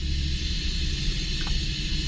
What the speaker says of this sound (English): what I'll do is I'll run pink noise through the system. But I'll first do it with a tweeter.